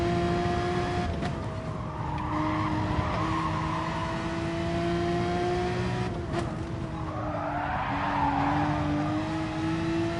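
A race car in a racing sim at Brands Hatch GP slides at the rear, its tires squealing in a long, loud screech over a steady engine drone, with the engine pitch shifting as it slides.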